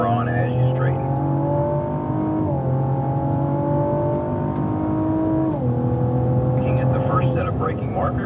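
A 2016 Cadillac ATS-V accelerates hard out of a corner on a track, its engine droning and climbing in pitch, dipping briefly at two gear changes, heard from inside the car with an instructor talking over it.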